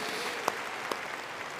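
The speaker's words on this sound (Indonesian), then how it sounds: "Sekali lagi tepuk tangan yang meriah buat Tuhan kita" A church congregation at a Christmas service in Jakarta breaks into dense, even applause, a short wash of many clapping hands heard from within the hall.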